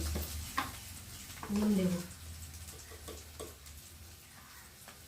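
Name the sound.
onion frying and being stirred in a pan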